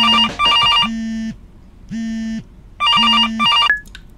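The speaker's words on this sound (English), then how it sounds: "your phone just happens to go off at the most important part" A telephone in a movie theater rings in a repeating electronic pattern, bright warbling trills alternating with a steady lower tone, loud and clear, cycling several times.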